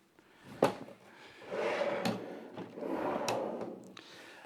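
A pull-out trash bin base slides along drawer glides, giving a soft bump followed by two smooth rolling runs, each ending in a light knock. The sound is quiet and close, with no voices.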